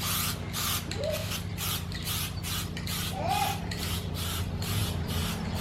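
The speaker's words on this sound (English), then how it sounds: "Yes, we're using a spray can, but some decent stuff." Rhythmic hissing bursts of an aerosol spray can painting a Nissan Skyline car panel, about a dozen short sprays in steady succession, close and loud over a low background hum.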